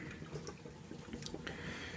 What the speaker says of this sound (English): Drain that water from the sink.